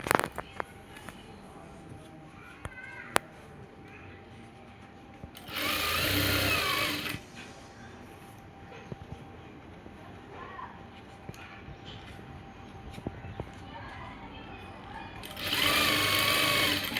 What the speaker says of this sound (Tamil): எலாஸ்டிக்கு கீழே தான் நான் தையல் போடுறேன்